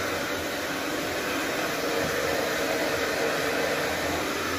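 A pet blower dries a freshly bathed, heavy dog during a grooming session, giving a steady, loud broadband whoosh that runs continuously and unchanged from start to finish with no voices over it.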